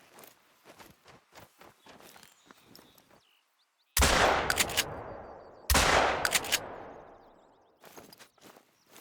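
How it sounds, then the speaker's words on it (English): Two loud, sharp shotgun blasts from a Cacciatore 12 gauge in theHunter: Call of the Wild at Layton Lakes, each with a long decaying echo, separated by about two seconds, with soft footsteps crunching before and after. "I got him on the way back by with a Cacciatore 12 gauge at 55 meters."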